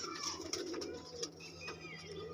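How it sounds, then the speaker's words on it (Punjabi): A pair of Punnu-line pigeons coos softly and continuously at close range, with low rolling coos repeating over a faint background and no talking. "ਇਹ ਪੁੰਨੂ ਵਾਲੇ ਕਬੂਤਰਾਂ ਚੋਂ ਆ"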